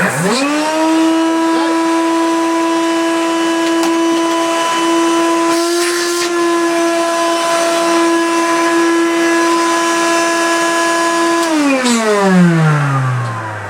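A Hoover Celebrity S3005 vacuum cleaner motor runs with a steady, loud whine for about eleven seconds, then winds down with a falling pitch as it switches off.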